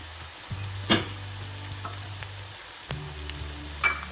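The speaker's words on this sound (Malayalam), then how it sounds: "മസാലയുടെ ഒക്കെ ഒരു പച്ചമണം മാറുന്നത് വരെ നന്നായിട്ടൊന്ന് വഴറ്റിയെടുക്കാം." Shallots and masala paste sauté in a pan for a nethili chilli curry, with a soft low sizzle broken by a few sharp scrapes and clicks of a spoon against the pan.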